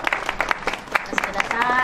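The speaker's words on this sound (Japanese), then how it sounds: "大きな拍手をお願いいたします。" Applause at a tea-rice dish award ceremony held at a temple, brief and moderately loud clapping from a gathered crowd, lasting under two seconds.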